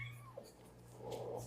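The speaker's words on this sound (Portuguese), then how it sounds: "A gatinha preta do azar." A black cat meows close by, a drawn-out wavering cry with a falling pitch, followed by a softer second call, faint and alone with no talking.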